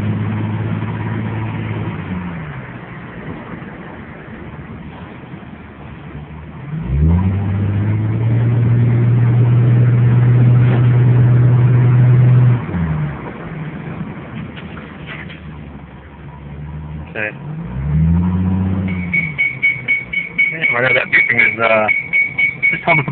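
Ford Mustang convertible with the pony package driving, its engine rising and falling through gear changes with a steady drone, close and loud, while a person talks over it.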